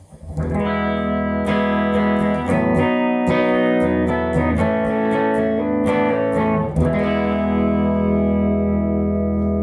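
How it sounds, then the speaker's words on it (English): An electric guitar on the treble pickup played through a tube amplifier, strummed chords ringing with a warm, slightly gritty tone and sustained decay, no voices. "here's the sound of the amplifier on its own"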